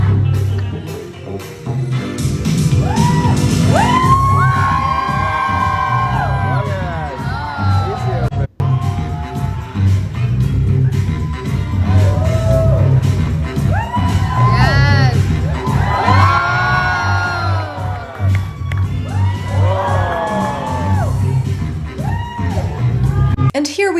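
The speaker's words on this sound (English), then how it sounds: "a room of strictly Monat market partners cheering and screaming over the launch of the new energy flavors" A room full of Monat market partners cheering and screaming at a launch event, loud continuous crowd noise with high whoops and shrieks rising in waves.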